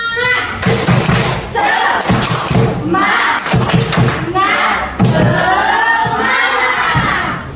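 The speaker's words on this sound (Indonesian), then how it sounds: "Oke, tepuk semangat." A class of children doing a rhythmic spirit clap, with bursts of clapping and thumps mixed with loud shouting and cheering voices throughout.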